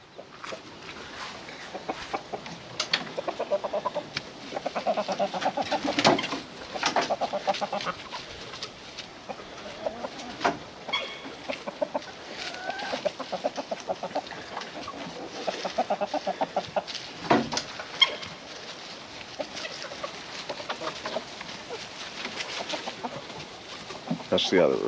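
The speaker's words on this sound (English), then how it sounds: "That's the other rooster." Rooster and chickens cluck and call repeatedly around a backyard flock, a mix of near and farther birds with scattered louder squawks over steady outdoor background.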